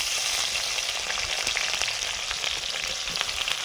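Cloves, cardamom and cinnamon sizzle in hot oil, a close, steady frying hiss with scattered small pops and crackles throughout, no voices present.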